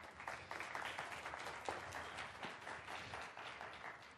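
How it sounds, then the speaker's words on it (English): A round of audience applause at a local government panel, a soft, distant patter of many hands clapping steadily for a few seconds with no talk over it. "Can we give her a round of applause?"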